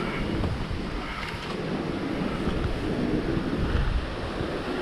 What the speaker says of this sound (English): it's definitely quite a cool waterfall